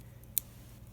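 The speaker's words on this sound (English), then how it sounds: "just turn the plastic, keeping your scissors at an angle" Scissors make a single crisp snip through plastic sheet during beaded flower crafting, quiet and close, with faint clicks around it.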